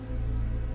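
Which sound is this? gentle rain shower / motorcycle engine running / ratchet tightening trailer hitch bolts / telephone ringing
gentle rain shower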